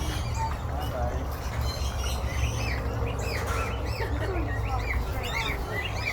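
Many small birds chirp and tweet continuously in a zoo bird sanctuary, with dove-like cooing mixed in, over a constant low rumble of background noise.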